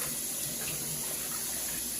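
Washing water drains steadily from a kitchen sink after rinsing cabbage, a continuous close rushing gurgle with no pauses.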